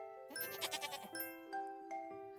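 A goat in the farming video game Harvest Island bleats in a couple of wavering calls, with steady electronic game music tones sustained underneath.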